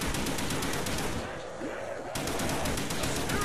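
Rapid automatic gunfire in Call of Duty: Black Ops Zombies on the Der Riese map: dense, loud bursts of shots that stop briefly and then resume, with talk faintly underneath.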